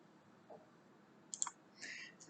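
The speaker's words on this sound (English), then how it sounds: "I click on that option" A computer mouse gives a single faint, sharp click, close and quiet, with a little soft room noise around it.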